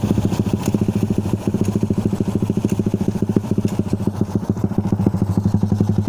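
A motorcycle engine idles nearby, a steady, rapid putter with regular thumping pulses and no talking.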